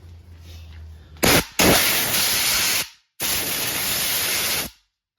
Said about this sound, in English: I gotta blow this out with the air compressor